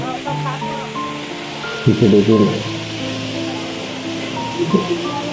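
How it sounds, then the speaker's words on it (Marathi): A waterfall roars steadily in the background at Manakamana temple in Nepal while a voice speaks over it. "त्याच्या पाठीमागेच जो आवाज येतो तो आहे एक धबधब्याचा"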